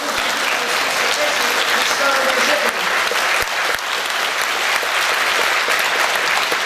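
Audience applause after an introductory talk before the opera Chanar Khus, dense and sustained throughout at steady loudness, filling the hall without pause.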